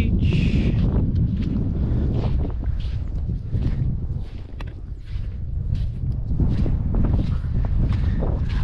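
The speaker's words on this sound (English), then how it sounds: "Windy as always, WA." Strong wind blowing across a beach in Western Australia, buffeting the microphone with a constant heavy low rumble and gusty bursts that rise and fall throughout.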